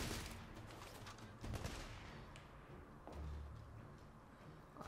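Gunfire in the video game The Order: 1886, a dense rattle of shots and bursts, moderately loud and continuous with a few heavier blasts, no voices.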